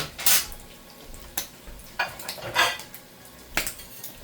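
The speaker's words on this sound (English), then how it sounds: "I'm gonna get a plate and I'm gonna start taking out the ones that are crispy already" Crispy breakfast food is lifted from a pan onto a plate, making a handful of sharp, close clinks of utensil against cookware and plate, spaced irregularly over quiet background.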